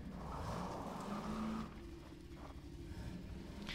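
A car in the Garry's Mod video game slows to park, its engine droning steadily before a brief tire squeal as it brakes, then settling into a lower idle.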